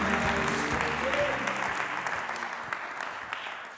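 A conference audience applauds sustained and fairly loud as Gary Neville is welcomed onstage, a dense wash of clapping that gradually thins toward the end.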